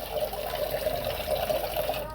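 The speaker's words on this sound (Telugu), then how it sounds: "సో మీకు ఫస్ట్ వాటర్ వేస్తాం" Water pours steadily in a soft, continuous gurgling stream, close by, with a faint voice in the background.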